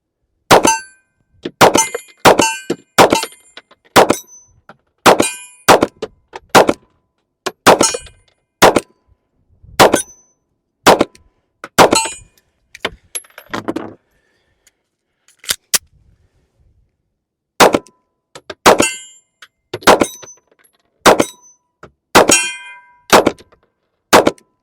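Rapid strings of Smith & Wesson Bodyguard 2.0 pistol shots hit steel targets, each crack followed by a metallic ring, in several volleys separated by short pauses, loud and close with no talking.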